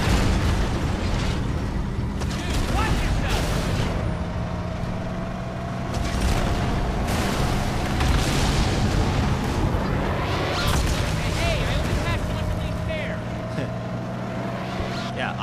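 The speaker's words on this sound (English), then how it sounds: "I soften him up with the tank, he finishes them off with the rockets" Tank cannon blasts and rocket explosions from the Halo 2 video game boom and rumble continuously over engine drone, while players talk over the action.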